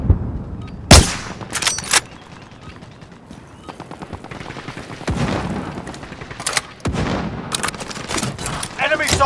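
Gunfire in Call of Duty Warzone, a sharp loud shot followed by bursts of distant and nearer shots, mixed with game sounds and a voice talking over parts of it.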